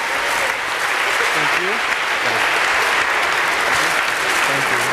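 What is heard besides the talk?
audience applause for students on stage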